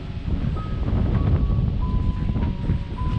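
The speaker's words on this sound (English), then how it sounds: "Wind just picked up." Steady, loud wind rushing and buffeting a microphone outdoors on a hillside near a winery, a continuous low roar with no pauses.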